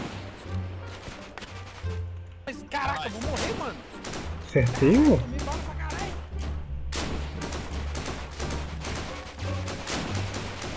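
Gunfire in the survival shooter Deadside, bursts of shots popping in rapid clusters, some near and sharp, others farther off, while players talk and shout excitedly over the radio.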